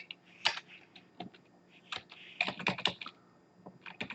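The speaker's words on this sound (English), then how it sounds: "I'm fumbling around with the keyboard because I'm not used to the Mac" Keys clatter on a Mac computer keyboard in irregular bursts of close, crisp clicks with short pauses between them, no talking.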